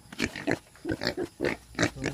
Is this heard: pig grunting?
yes